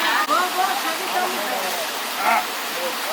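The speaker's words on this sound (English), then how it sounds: "There's a waterfall right there." A desert waterfall in Israel pours steadily, a continuous broadband rush of falling water that holds even throughout, with faint voices in the background.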